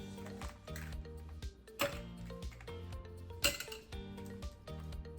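Ice cubes clink and rattle against glass for a candy corn mocktail, several sharp knocks over a steady rhythmic background, close and fairly quiet.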